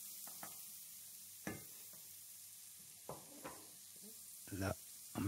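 Vegetables hitting hot oil in a pan give a faint steady sizzle, broken by sharp scrapes and clatters of stirring. Someone speaks French over the cooking.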